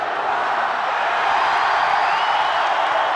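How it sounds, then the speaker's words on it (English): A large stadium crowd roars at the end of a rugby league match, making a steady, loud, wide wash of cheering for about three seconds with no break. "The crowd roar."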